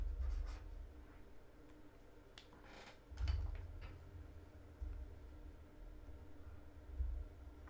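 Quiet scratching of a pen writing a number on a card during a coin roll search, faint and steady with no voices.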